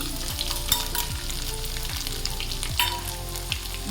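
Grated ginger and finely chopped garlic hit hot oil with popping mustard seeds, giving a steady close sizzle and crackle, with scrapes and stirring knocks of a utensil repeating through it; no voices.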